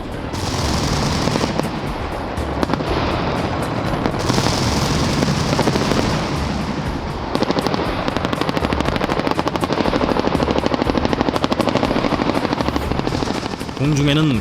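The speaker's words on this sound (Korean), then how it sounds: "공중에는 코브라 헬기가 나타났다." Cobra attack helicopter flying overhead during a military weapons demonstration, loud continuous rotor thumping with rapid bursts of gunfire layered on top and a voice speaking over it.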